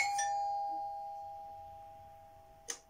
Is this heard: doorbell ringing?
yes